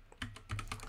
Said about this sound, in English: you're gonna go to start menu and type